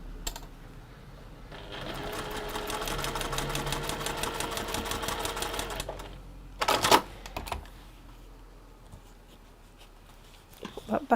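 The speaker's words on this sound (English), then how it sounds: "I'm now going to sew that one to there." A sewing machine stitches fabric pieces together in a quick, even mechanical chatter lasting about four seconds, followed by handling clatter and quiet pauses, with a voice speaking at times.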